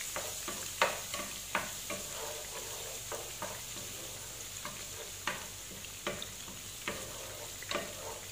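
Garlic frying in a pan gives a constant hiss, broken by regular spatula taps and scrapes at an even rhythm, close and moderately quiet.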